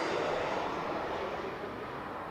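A Global X business jet arrives at Las Vegas Harry Reid International Airport, its steady broadband roar heard at a distance and slowly fading with no talking.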